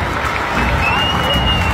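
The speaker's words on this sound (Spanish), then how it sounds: "Y que se escuche el aplauso" A stadium crowd applauding and cheering footballer Matías Oyola at his farewell match, a loud, dense roar of clapping and voices filling the whole moment.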